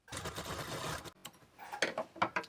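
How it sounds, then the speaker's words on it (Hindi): A sewing machine runs a loose basting stitch on a blouse lining, a close whirring burst of rapid stitching for about a second, then a pause and a few scattered clicks and taps. "इसके ऊपर पे हमें कच्ची सिलाई लगानी है"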